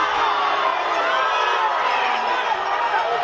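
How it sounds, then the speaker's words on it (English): A soccer stadium crowd at an NCAA tournament match roars in a sustained, dense wave of cheering and shouting after a sliding challenge. "And the crowd cannot quite believe that"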